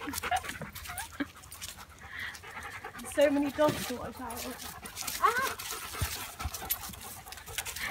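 Dogs panting and moving about on a walk in the New Forest, with breathy panting running throughout beneath frequent close talk and exclamations from people nearby.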